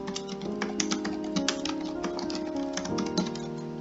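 Rapid, irregular clicks of a computer keyboard as code is typed, close and moderately soft with a faint steady tone behind.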